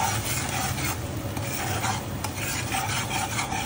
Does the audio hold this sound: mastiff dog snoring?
no